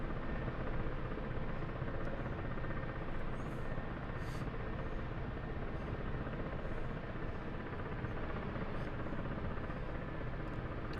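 Ka-50 Black Shark helicopter in the DCS flight game during a hover taxi, a steady droning rotor and turbine roar that holds even and unbroken throughout, fairly quiet.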